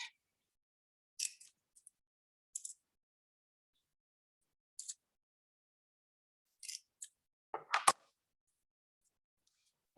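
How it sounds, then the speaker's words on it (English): Cutting material with scissors for a dollhouse miniature palm tree: a handful of crisp, separate snips spaced across the clip, with a louder clattering handling noise near the end, close and otherwise quiet. "So you want to cut this."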